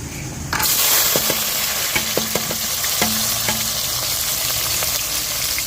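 Onion, garlic and green chilli sizzle in a hot pan, beginning abruptly with a loud steady hiss that continues throughout, marked by a few sharp scrapes and clinks of a spoon stirring.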